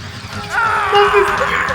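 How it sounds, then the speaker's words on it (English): Ocelot from Metal Gear Solid: The Twin Snakes screaming in pain, a loud, close, strained male cry rising and wavering for about a second over game background noise. "I love the way he screams."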